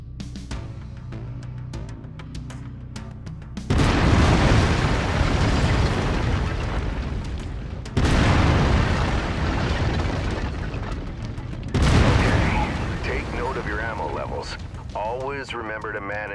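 Three heavy bursts of autocannon fire from a mech in MechWarrior 5: Mercenaries, each a loud booming blast that trails off over several seconds, with battle noise between them.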